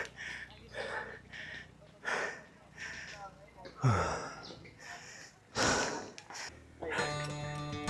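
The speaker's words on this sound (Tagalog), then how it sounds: "Grabe hingal." Heavy, ragged panting and gasping after cycling uphill on Marinduque island in the Philippines, loud bursts of breath in uneven rhythm, close to the listener, with a brief sharp exhale and a short tonal sound at the end.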